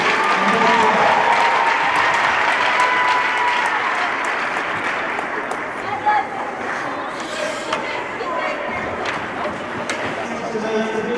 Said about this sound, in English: one more big round of applause for the seniors and players